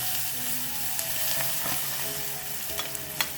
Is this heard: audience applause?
no